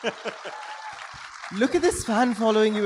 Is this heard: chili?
no